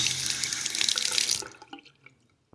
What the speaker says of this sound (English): So our new faucet is in and working.